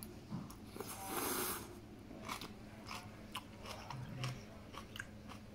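Stir-fried Thai water spinach being bitten and chewed up close, giving a series of quiet, crisp crunches in irregular rhythm with no talking.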